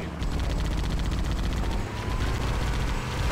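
Sustained rapid gunfire in Halo: Combat Evolved forms a dense, steady barrage of automatic weapon shots and battle noise, loud and unbroken throughout.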